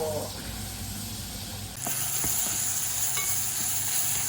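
Majboos rice and tomatoes being stirred in a hot pan: a steady, close sizzle with scraping stirs that grows brighter and louder partway through, with a voice speaking over it.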